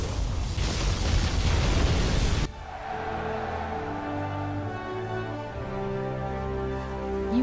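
A particle cannon blast from the USA general's arsenal in Command & Conquer Generals Zero Hour erupts as a loud, roaring explosive burst for a couple of seconds, then cuts to a quieter droning battlefield hum.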